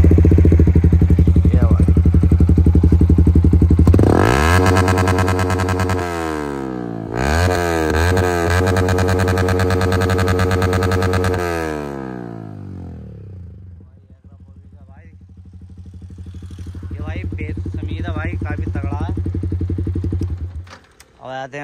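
A Yamaha R15 V4 motorcycle fitted with an SC Project exhaust revs hard, rising to a loud raspy howl, dropping, surging again, then settling into a rumbling idle with a few blips, close and loud throughout.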